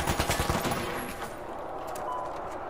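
Pistol shots in The Finals, a quick run of close sharp cracks at the start that fades into a steady background rumble.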